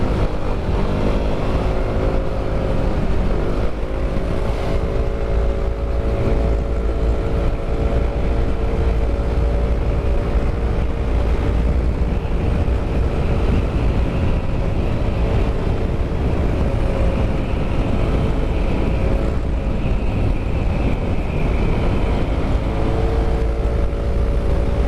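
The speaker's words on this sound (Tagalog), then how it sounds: "Hirap sakyatan tong motor ko ah." A motorcycle labors uphill on the road to Baguio City, its engine droning steadily and loudly without a break, heavily buffeted by wind noise across the microphone.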